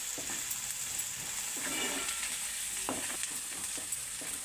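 Coriander and garam masala powder being stirred into a frying pan for an egg fry, a steady oily sizzle broken by repeated close scrapes and taps of a spoon against the pan, no talk.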